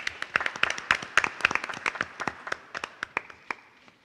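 Applause at a school board meeting from a small group, with crisp individual claps packed close together at first, then thinning out and fading as fewer hands keep going.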